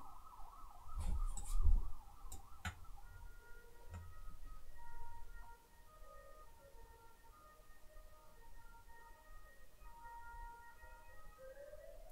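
An ambulance siren wails faintly outside, rising and falling at first and then fading into softer intermittent tones, heard alone behind low background noise.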